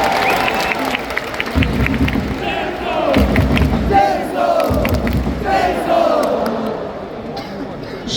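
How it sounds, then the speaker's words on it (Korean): A big sports crowd cheers and chants loudly at a post-victory fan celebration, with bursts of applause and deep rhythmic thumps, the roar swelling and fading in waves. "재능소 선수에게 다시 한번 박수 한 번 해주시죠."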